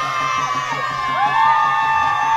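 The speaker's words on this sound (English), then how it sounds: "A bit boisterous from the crowd there" Boisterous crowd shouting and cheering at a women's university football match, a swell of overlapping voices and whoops that rises briefly, heard from close by.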